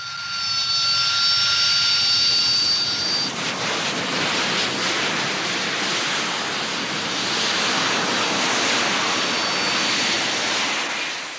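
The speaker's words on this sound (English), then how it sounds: "8 Harriers land and are camouflaged in only 12 minutes" Harrier jump jets land at a camouflaged woodland site with a loud, continuous jet roar and whine that swells and holds throughout, close and overpowering.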